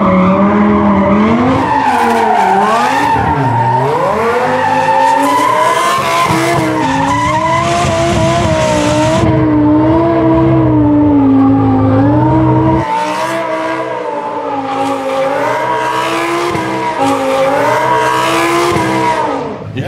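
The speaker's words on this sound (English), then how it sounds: "You hear those tires just sticking." An 800hp Lamborghini Huracán EVO's tires squeal and screech continuously as its engine revs and strains, loud and close, with the pitch sliding up and down through hard turns.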